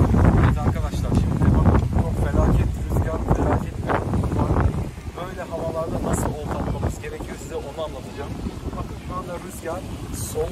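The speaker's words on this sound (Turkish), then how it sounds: "rüzgar soldan sağa doğru esiyor" Stormy wind buffets the microphone with low rumbling gusts throughout while fishing for horse mackerel, loud and steady, with a few faint voices and other sounds now and then.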